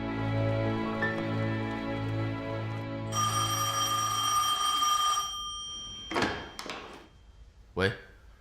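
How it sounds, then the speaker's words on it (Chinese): A telephone bell rings in sustained bursts, loud and close, followed by a door or drawer clacking shut a few times. "好的，卢科长，你的电话。"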